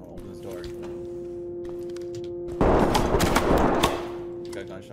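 Gunfire in the tactical shooter Ready or Not rings out in a dense, loud burst of shots midway through, over a steady low electrical hum and faint background speech.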